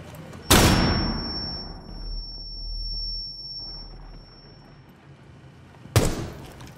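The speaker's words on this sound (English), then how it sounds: "Tossing flashbang." A flashbang grenade goes off in Rainbow Six Siege with a sharp, loud bang, then a long, high, steady ringing that fades over several seconds, followed by a second abrupt burst near the end.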